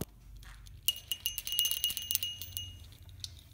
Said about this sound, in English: here's his bell.